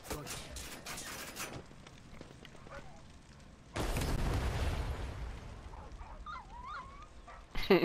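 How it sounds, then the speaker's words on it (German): A dog barks in Far Cry 6 in a few sharp, mid-level bursts among gunfire and in-game explosions, while a voice talks now and then. "Was macht der Hund auf einmal hier?"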